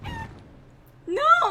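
Chickens in the video game Dragon Age: Origins give a brief clucking call near the end, after a quiet stretch with a faint low hum.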